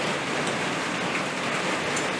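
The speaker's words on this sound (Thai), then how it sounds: "ตอนนี้เชียงรายฝนตก" Rain falls steadily in Chiang Rai, Thailand, a continuous soft hiss of drops on surfaces, even and unbroken throughout, with no talking over it.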